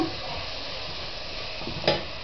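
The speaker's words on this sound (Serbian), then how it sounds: "crni luk i praziluk ćemo prodinstamo" Onion and leek sauté in a pan with an even, moderate sizzle and hiss throughout, topped by a short utensil scrape or clink near the end.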